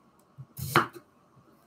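Onion being chopped with a knife on a cutting board, a few sharp close thuds with one louder blade strike in the middle, separated by short pauses.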